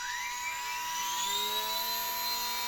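Small electric motor of a UMX PT-17 remote-control plane being run up during a throttle test, a steady high-pitched whine with rising harmonics held close and loud for the whole stretch.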